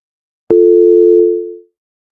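A telephone line tone sounds after a radio call-in caller is hung up on: a loud, steady low hum that starts abruptly, holds for about a second with a faint click partway, then fades out.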